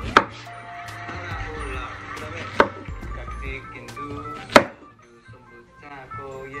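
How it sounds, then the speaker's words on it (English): Three sharp knife chops land on a cutting board while chopping an onion, spaced a couple of seconds apart, over a low steady kitchen hum. "Let's get to chopping."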